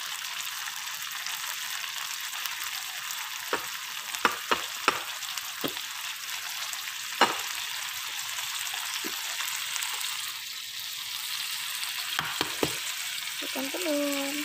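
Meatballs hit a pan of spicy Javanese fried rice, giving a steady close sizzle and frying hiss with a few sharp clinks of a utensil against the pan.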